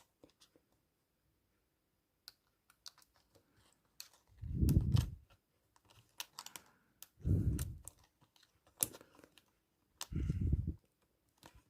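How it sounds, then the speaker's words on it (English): Three soft, low thuds of an Acer Aspire 5750 laptop's keyboard clips being pressed into place, spaced a few seconds apart, with faint clicks in between in a quiet room. "And then push the clips back down."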